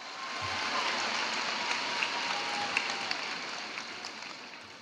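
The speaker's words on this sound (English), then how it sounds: "How about a round of applause for them and the years of studying and hard work" A large audience at a high school graduation ceremony breaks into sustained applause, a dense wash of clapping heard from a distance with a few sharper claps standing out, slowly fading toward the end.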